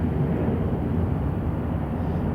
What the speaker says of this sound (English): Here comes the British Airways City Flyer.